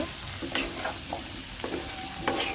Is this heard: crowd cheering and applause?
no